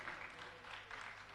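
An audience at an event in a Nairobi hotel applauds, a dense, continuous wash of many hands clapping together, steady and fairly distant.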